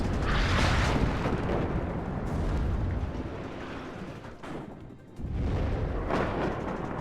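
Rocket artillery fire and explosions in the real-time strategy game WARNO during a 2v2 multiplayer match, a dense continuous roar of booming blasts and rumbling impacts, loud throughout with a brief dip near the end before the barrage resumes.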